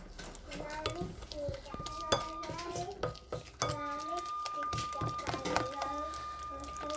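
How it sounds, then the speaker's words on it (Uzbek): Eggs are stirred in a bowl in a home kitchen, with repeated clinks and scrapes of a utensil against the bowl in an irregular rhythm, close by, while people talk in the background. "Bularni yaxshi aralashtiraman."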